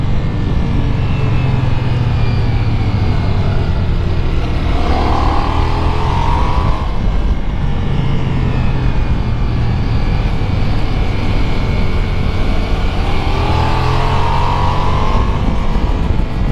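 A 2021 Ducati Multistrada V4S, a 170 hp touring motorcycle, roars steadily on a race track, with engine pitch rising and falling through two long acceleration sweeps, loud and close with heavy wind rush throughout.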